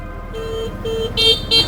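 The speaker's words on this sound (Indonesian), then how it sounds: "Apaan sih mobil belakang? Berisik banget sih." A car horn honks from a car behind on a street: short, loud toots repeated close by, with an engine hum underneath.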